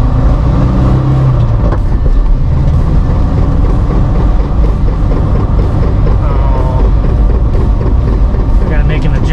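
VW Bus fitted with converted disc brakes, driving along with a loud, steady engine drone and rumbling road noise from inside the cabin, nearly unchanging throughout.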